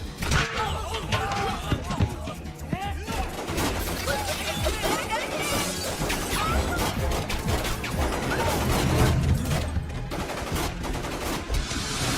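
Rapid bursts of gunfire crack and rattle repeatedly in a Hindi film scene, mixed with crashes and shouting voices in a chaotic, loud scene.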